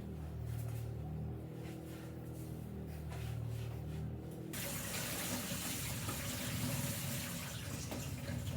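Kitchen tap running while vegetables such as carrots are washed, a soft steady stream of water that turns into a louder, fuller gush partway through, with no talking.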